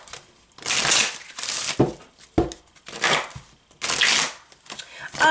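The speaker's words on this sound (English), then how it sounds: "people that don't want to watch my little shuffling can just skip on through" Tarot cards are shuffled by hand, making a series of close, crisp riffling and slapping bursts in an uneven rhythm, with brief pauses between them.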